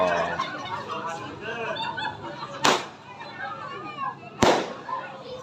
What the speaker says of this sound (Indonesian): diiringi dengan petasan nih